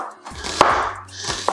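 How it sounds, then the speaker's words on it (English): A knife strikes a cutting board while onions are chopped, giving two or three sharp, close knocks spaced under a second apart, with faint scraping between them. "chop the onions just like that"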